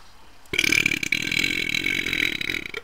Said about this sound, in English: Also, I burped. Really badly.